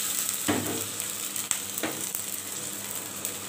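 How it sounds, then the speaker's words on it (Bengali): Onion, garlic and ginger fry in a pan for a pabda fish curry, a close steady sizzle broken by a few spatula stirs and scrapes, with no voices. "আমাদের পেঁয়াজ রসুন আদাটা হালকা করে ভাজা হয়ে গিয়েছে।"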